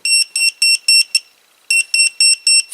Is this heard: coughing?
no